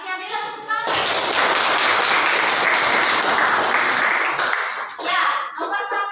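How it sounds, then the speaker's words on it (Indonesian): Applause from students in a vocational high school classroom, a dense burst of clapping that starts abruptly, holds steady for several seconds, then tapers off into scattered claps, with brief voices just before. "terima kasih Adela, tepuk tangan."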